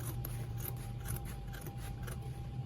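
Scissors snip steadily through excess fabric while making a padded pleated turban with a V-base, a close, continuous scraping rasp with small regular cutting bursts and no talk.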